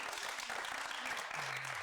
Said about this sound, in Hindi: तो मेरे लिए तालियां